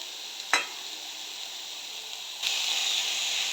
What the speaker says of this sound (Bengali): সবজিগুলোকে ভেজে নেব, তার সাথে দিয়ে দেবো ধোয়া চিংড়ি মাছটা।